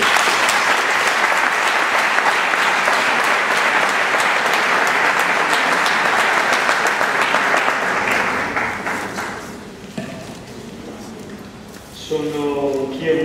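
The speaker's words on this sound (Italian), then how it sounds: "Lo ringraziamo molto con un applauso." An audience at a World Youth Day 2011 gathering breaks into loud, sustained applause for about eight seconds, then fades; a voice begins speaking as the clapping dies away.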